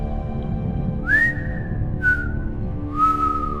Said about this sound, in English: this weird, high-pitched signal was only picked up by a single hydrophone